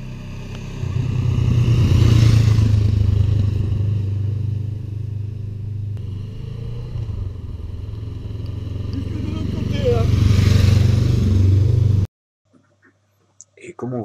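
A Honda CMX 500 Rebel cruiser motorcycle engine drones steadily while riding, a low rumbling hum throughout, ending abruptly with a brief near-silence.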